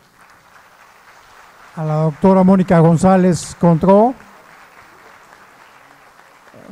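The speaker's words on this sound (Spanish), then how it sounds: "brindemos un aplauso" Faint applause from a family-law congress audience runs softly beneath a loud voice speaking in the middle, lingering alone afterward as a quiet patter.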